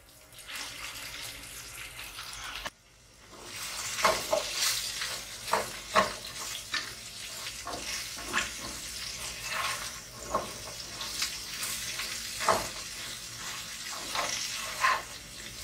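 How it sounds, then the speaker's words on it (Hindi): Okra shallow frying in a pan with a teaspoon of salt, heard as a steady sizzle with repeated stirring scrapes and clinks throughout, close by and with no talking. "हल्का सा शैलो फ्राई करना है इसको ताकि इसकी जो लेस है वो खत्म हो जाए।"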